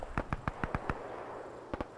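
Rapid gunfire in the ARMA 3 video game on a Pacific Solomon Islands battlefield: a quick burst of about six sharp shots, a short pause, then three more cracks, fairly close and loud.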